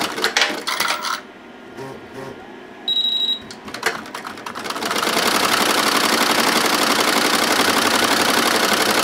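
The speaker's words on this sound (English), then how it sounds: "we're embroidering on the pocket using the Hoop Master magnetic hoop called the Mighty Hoop" Embroidery machine stitching on the pocket of a cooler bag held in a magnetic hoop, starting with scattered clicks and brief tones, then settling into a steady, fast, continuous mechanical whir for the last half.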